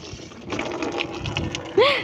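A container filling with water indoors at home, a steady running-water rush that builds toward the end, with a voice over it.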